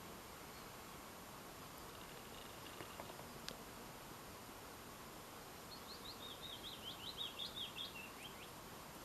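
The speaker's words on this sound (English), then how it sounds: "There's one or two birds still singing" A single bird sings a short, faint trilling phrase in the distance over quiet background hiss, with no other sounds nearby.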